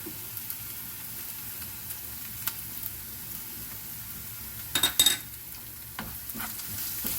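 Prawn masala with curry leaves sautés in a pan, giving a quiet, steady sizzle and hiss, with a few sharp spatula scrapes and clinks near the middle and end.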